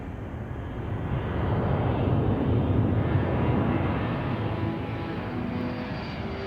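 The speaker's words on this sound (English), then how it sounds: "A C-141 lifts off from Thule Air Force Base." A C-141 military transport jet lifts off from Thule Air Force Base, its engines producing a steady, loud broadband roar that swells slightly mid-clip and holds without any speech.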